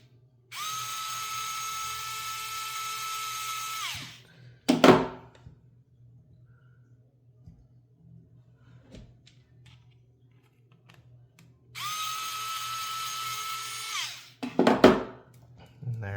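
A power drill backs a bolt out of the rear axle of a Traxxas TRX4M crawler, two whirring bursts of a few seconds each, each ending with a sharp clatter, separated by quiet.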